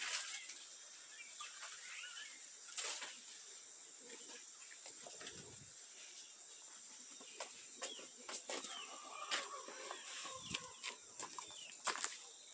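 A brooding hen on a farm gives soft intermittent clucks close by, with a few brief wing flaps and scattered bird calls over a quiet outdoor hiss.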